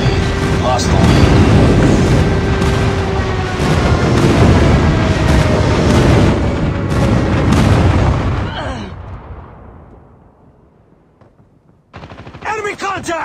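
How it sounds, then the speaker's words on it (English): Rapid gunfire and heavy explosion booms from an airstrike in Call of Duty Mobile, loud and dense for about eight seconds. The din then fades to a low rumble, and brief game voice chatter returns at the end. "Enemy airstrike incoming."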